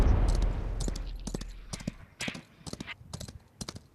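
Horse hooves clattering in a multiplayer video game, a rapid series of sharp clip-clop hits coming fairly close over steady background game noise.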